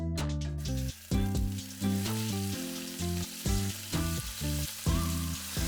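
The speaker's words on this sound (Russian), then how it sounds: "Даем мясу хорошенько обжариться, чтобы оно приобрело аппетитную румяную корочку." Meat sears in hot vegetable oil in a Dutch oven, giving a loud, continuous sizzle that fills the whole stretch, with a steady tonal background layered over the frying.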